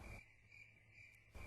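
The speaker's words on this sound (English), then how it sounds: "the crickets and cicadas hummed their ceaseless song" Crickets and cicadas chirp at night in a steady, continuous high trill, faint and even, framed by brief bursts of broadband noise at the start and end.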